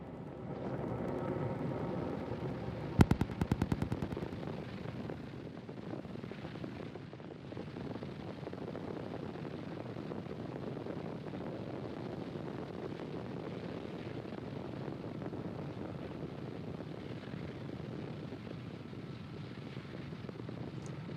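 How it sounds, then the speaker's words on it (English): A SpaceX Falcon 9 carrying Starlink satellites roars during launch from Space Launch Complex 40 at Cape Canaveral, a continuous broad rumbling thunder with a brief crackling burst early on, steady and distant-sounding throughout. "Falcon 9 has successfully lifted off Telemetry are nominal. from Space Launch Complex 40 at Cape Canaveral Space Force Station"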